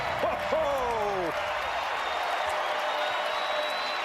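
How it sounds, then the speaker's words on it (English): A basketball arena crowd roars in a steady, dense wash of cheering and applause, with a couple of rising whoops near the start before the noise settles into a sustained far-off din. "that brought the crowd to life"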